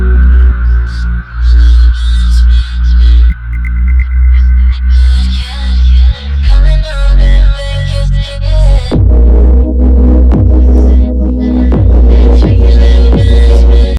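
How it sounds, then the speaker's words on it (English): A deep, heavy synth sub bass throbs steadily beneath a layered electronic track with melodic tones and rhythmic hits, loud and continuous. "So it's that sub bass."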